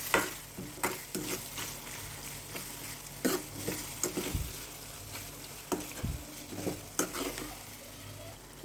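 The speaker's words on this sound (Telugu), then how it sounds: "అలాగే సరిపడంత ఉప్పు వేసుకొని కలిపేసుకోవాలి" A spoon stirs a potato and tomato curry with salt in a pan, giving irregular scraping knocks and clinks over a faint sizzle, close and fairly quiet.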